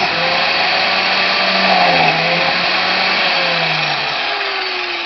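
An Einhell TC BJ 900 biscuit joiner runs freely: a loud, steady, high-pitched motor whine held close for several seconds, its pitch dipping slightly at times.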